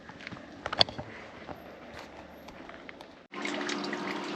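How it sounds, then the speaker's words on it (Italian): Water runs from a public fountain into a camper's water tank beside the Castagno dei Cento Cavalli chestnut tree in Sicily, a steady rushing flow that turns louder and fuller after about three seconds. "Faccio pieno acqua Alla fontanella"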